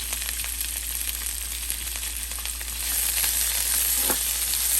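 Cut sweet peppers and curry leaves fry in a pan for a palya, a steady close sizzle with light crackling that grows slightly louder partway through, with a low background hum and no speech.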